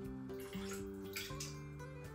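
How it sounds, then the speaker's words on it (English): Stock is poured into a pressure cooker, a steady, quiet liquid stream with shifting gurgling tones that runs for a couple of seconds without talk. "pour our stock directly into the pressure cooker"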